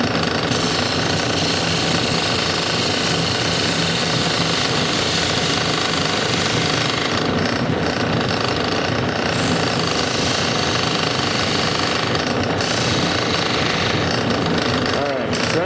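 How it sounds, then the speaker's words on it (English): Wood lathe turning the bottom bead of a handmade wooden chess piece with a small gouge, a steady loud machine drone and rough scraping running unbroken throughout, with faint talk mixed in. "Switch out to my smaller gouge again. Turn the bead."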